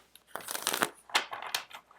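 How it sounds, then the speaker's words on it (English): A deck of oracle cards is shuffled by hand in a few quick riffling bursts, close and fairly soft, with no talking. "I'm going to really shuffle these."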